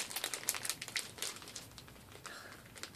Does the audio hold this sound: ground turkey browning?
no